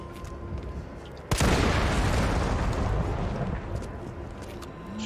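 A barrel blows up after being shot in Resident Evil 3, a sudden loud blast that gives way to a long roaring rumble which slowly fades.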